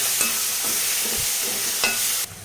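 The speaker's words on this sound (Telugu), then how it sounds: "తర్వాత అంతా కలిసేటట్టు ఇలా కలపాలి." Tomato pieces with chilli powder, roasted cumin powder and pepper powder are stirred in a pan, giving intermittent spoon scrapes over a steady close sizzle that cuts off abruptly near the end.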